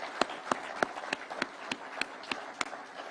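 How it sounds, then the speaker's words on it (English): Audience at a Kenyan political rally addressed by President Ruto claps together in a steady rhythm, about three sharp claps per second over a continuous crowd hiss. "please let us clap for those great people"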